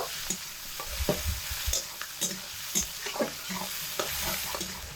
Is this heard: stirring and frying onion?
yes